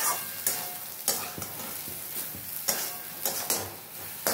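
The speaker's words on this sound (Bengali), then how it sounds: "একটু আঁচটা বাড়িয়ে দিয়ে ভালো করে আবারও একটুখানি কষিয়ে নেবো" Potato and pumpkin sauté over high heat for a fish roe dish, a steady sizzle broken by repeated stirring scrapes and clinks of a utensil against the pan, close up with no talk.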